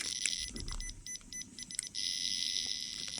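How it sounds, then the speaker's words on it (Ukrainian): An ATOM-SCAN CsI scintillation dosimeter sounds a loud, shrill, steady electronic alarm that breaks into short pulsed bursts, then resumes a continuous tone, close and alone. "Тобто секунду чути сигналізацію, секунду чути клацання."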